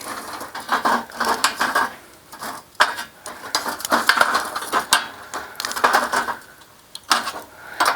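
Charcoal coals shifted around in an Everdure Fusion BBQ grill by Heston Blumenthal, giving irregular scraping, crunching bursts close by, with short pauses between movements.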